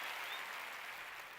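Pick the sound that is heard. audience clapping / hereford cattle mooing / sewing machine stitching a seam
audience clapping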